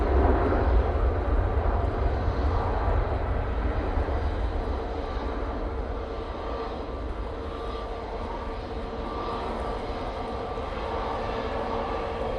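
A Cathay Pacific airliner lands at Manchester Airport in windy weather, its engines a steady, loud broadband roar that stays continuous throughout with gusting wind mixed in.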